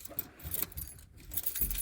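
Car keys jangle in short, close metallic rattles over a faint background, with no talking.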